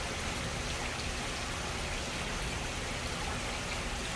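Water pouring into a fish pool from an opened water line: a continuous, fairly soft rushing and splashing hiss that stays even throughout, with no voices.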